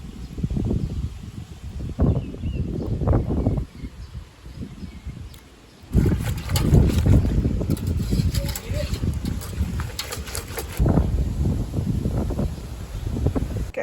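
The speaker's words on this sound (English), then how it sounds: "it is freaky windy outside" Strong, gusty wind blows outdoors, buffeting the microphone in rough, uneven bursts that rise and fall, while a person talks through it.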